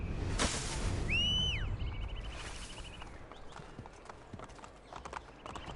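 Horse hooves clip-clop in a quick rhythm at the start in the video game Assassin's Creed Brotherhood, then fade under chirping bird calls and ambient background noise.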